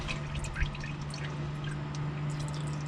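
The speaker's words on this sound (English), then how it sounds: "now I gotta hold it here until it's done draining all that oil out" Engine oil from a 1998 Chevy 5.7L drains in a steady, soft trickle and patter into a pan, close and continuous under a low hum, with no talking.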